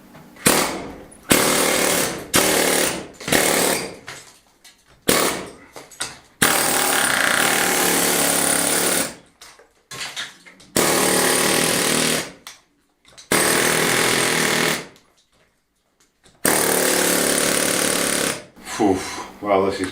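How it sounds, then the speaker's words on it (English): A loud pneumatic air hammer chisels at stone around a lintel in an 1870 stone farmhouse in Spain, in repeated bursts of rapid hammering separated by short pauses. "I'm just going to take it back up to there with the air hammer, clear all that off"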